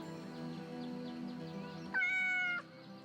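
A cat in Yes, Your Grace lets out a single clear, drawn-out meow when petted, rising above soft background music and ending abruptly.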